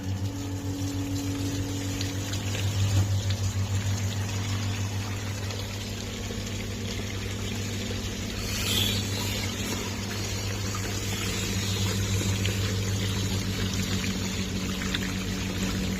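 A small waterfall pours and splashes steadily at close range during a test of tiny RC car tires, a continuous rushing wash with a faint mechanical hum underneath and a brief brighter splash in the middle.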